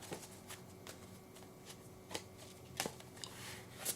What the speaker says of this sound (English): We are going to shuffle.